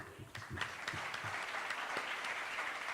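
An audience at a presentation and discussion event breaks into applause, a few distinct claps at first building into a steady, moderately faint patter.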